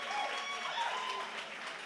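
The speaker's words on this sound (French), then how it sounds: "Applaudissez pour l'inscrire" Audience applause at a summer pageant crowning event, a steady wash of clapping filling the short moment with a faint voice over it.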